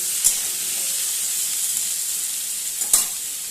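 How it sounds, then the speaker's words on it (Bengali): Long-cut potato strips frying in oil in a pan with bay leaves, a steady dense sizzle close up, with a couple of brief sharp clinks. "এবার আলুটা ভালোভাবে আগে ভেজে নেব।"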